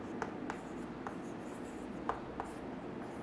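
Marker or chalk writing on a board during a chemistry lesson, heard as faint scattered taps and short strokes at an irregular rhythm over a quiet room hum.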